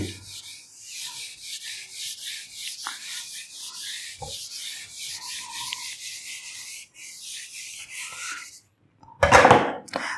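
A board being wiped with a duster during a physics class: steady rubbing strokes, close and continuous for several seconds, ending in a louder brief scrape, with no talking.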